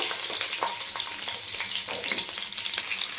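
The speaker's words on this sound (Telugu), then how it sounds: "ఇప్పుడు మనం పచ్చిమిర్చి యాడ్ చేసుకుందాము ఇది కూడా కొంచెం వేగాలి" Green chillies sizzle and crackle steadily in hot oil, following golden cashews and raisins for a masala rice, with scattered pops and light stirring close by and no talking.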